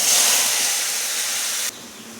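A spice paste of ginger, tomato and chilli with ground cumin and coriander, sweetened with a little sugar, frying in a pan: a steady, close sizzling hiss that drops away abruptly just before the end.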